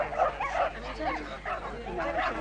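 A dog barks and whimpers in a film scene, with short yips and whining cries repeating over a steady low background hum.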